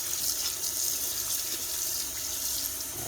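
Running water rinses a portable mini washing machine, a steady, close hiss of flowing water pouring continuously without pause.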